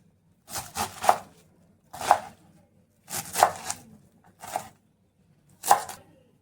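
A knife chops through cabbage on a board in short close clusters of crisp thuds, about five bursts with brief pauses between them.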